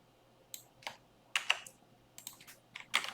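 Typing on a computer keyboard, with irregular bursts of close, crisp key clicks over a faint steady hum and no talking.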